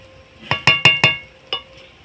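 A spoon strikes a pot five times while stirring rice with sugar for basanti pulao, bright clinking taps in a quick cluster of four and then one more, close and clear, with no voices.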